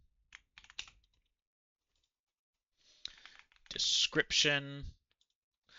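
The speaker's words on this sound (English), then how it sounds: "I'm just going to type in name, requested by display name, Description." Typing on a computer keyboard while filling in name and description fields: a few quick clicking keystrokes near the start, then a louder burst of keyboard clatter mixed with a brief voice later on.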